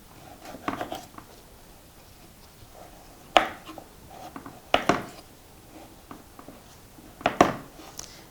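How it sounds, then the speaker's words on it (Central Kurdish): Potatoes being chopped with a knife on a board in a kitchen, a few sharp, irregular knocks spaced a second or two apart, close and clear over a quiet background. "بەردەوامە بم لە وردکردنی پەتاتەکان"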